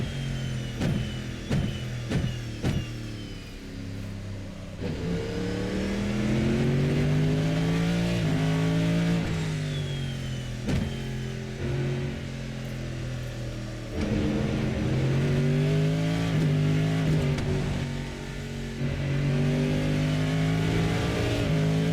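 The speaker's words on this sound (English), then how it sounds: "First thing I'm noticing is obviously that engine sound. It's a big American V8," A big American V8 in the RSS MP-H Callahan race car in Assetto Corsa rumbles low and loud as it repeatedly accelerates and climbs through the revs, with sharp shift breaks and brief lifts between pulls, no talk.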